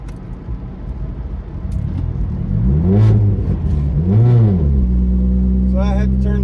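A turbocharged car engine running 27 pounds of boost on a stock ECU, with a stuck throttle pedal. It revs up and falls back twice, close and loud, then settles into a steady idle drone.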